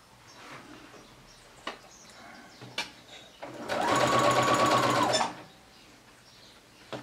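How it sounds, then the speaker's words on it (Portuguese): A sewing machine stitches a fabric garland in one steady, loud burst of about a second and a half in the middle, with quiet handling noises before and after. "Nós iniciamos a nossa costura por aqui"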